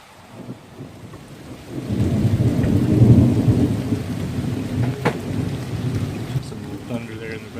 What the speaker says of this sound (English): Some little thunder there in the background.